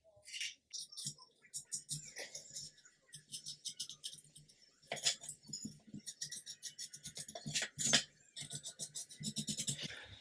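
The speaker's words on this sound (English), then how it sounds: "we can just get in there and scrape it clean again after the sanding" A small tool scrapes a sanded plastic part of a 1/35 Hobby Boss GMC Bofors 40mm gun model kit, giving close, repeated short rasping strokes in quick bursts, without speech.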